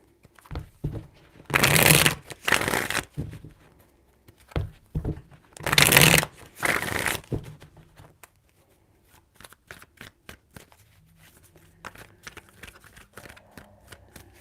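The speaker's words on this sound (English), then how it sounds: "4 shuffles." A deck of tarot cards being shuffled in two loud riffling bursts, each followed by a softer bridging flutter, then quieter scattered taps and handling noises.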